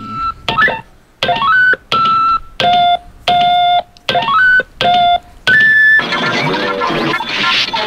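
Time machine start-up made of a rapid series of electronic beeps and rising chirps, each tone short and spaced with gaps, then a harsh noisy whoosh at the end; loud and close.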